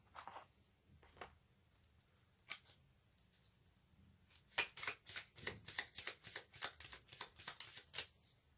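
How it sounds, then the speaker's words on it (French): Tarot cards are handled, with a few scattered flicks and taps and then a run of quick, rhythmic riffle-shuffle bursts, all close and fairly quiet. "Je vais tirer 6 arcanes majeures du tarot et des charms."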